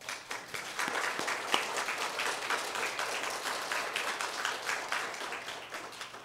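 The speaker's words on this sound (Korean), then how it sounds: "오늘 설교해 주신 이상칠 목사님께 감사와 환영의 박수를 해주시기 바랍니다" A church congregation applauds the guest pastor during a Sunday worship service, producing a soft, even spread of many hands clapping that holds steady throughout, heard from a distance.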